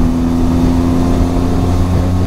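A car engine drones steadily on a road during a winter motorbike trip near Sialkot, a loud, continuous low rumble with a faint rising tone as the vehicle draws near, with no talk.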